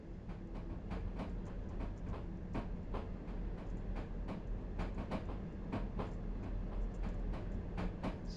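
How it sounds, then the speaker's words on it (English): Passenger train in the SimRail railway simulator passing through a station crossing at about 30 km/h, a steady rumble with regular clickety-clack wheel beats over rail joints throughout. "let the train pass. It's a passenger train."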